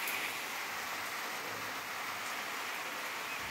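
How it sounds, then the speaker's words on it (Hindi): Steady rain falls in a continuous, even hiss of drops, moderately loud and unbroken, with no voices. "ये देखिए बारिश हो रही है।"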